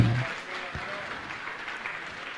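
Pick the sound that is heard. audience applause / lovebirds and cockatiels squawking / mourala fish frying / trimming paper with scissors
audience applause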